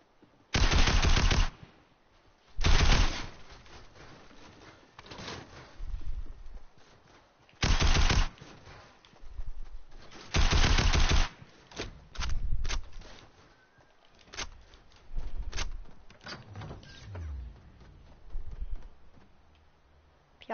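SMG-like gun in a video game firing several short rapid bursts separated by pauses, loud and close, with quieter mechanical clicks and handling noises between the bursts.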